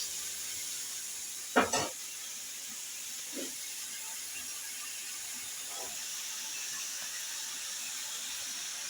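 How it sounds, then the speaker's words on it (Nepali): Mushrooms fry in a pan with a soft, steady high hiss of sizzling, broken by a couple of brief clinks near the start; no voices. "पहिला च्याउलाई फ्राई गर्ने,"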